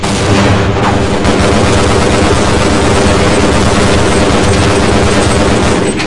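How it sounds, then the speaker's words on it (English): Gunfire from soldiers in the video game Half-Life: a loud, continuous, clipped barrage of rapid shots and noisy combat din that stays at full level throughout, with no pauses and no speech. "why are they shooting me?"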